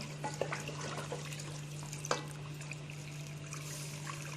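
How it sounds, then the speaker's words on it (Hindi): Water is poured from a glass into mutton badami kurma cooking in a pot, a faint steady trickle and splash with a couple of clinks over a constant background hum. "बस इसमें 2 गिलास भर के पानी डाल दिया मैंने।"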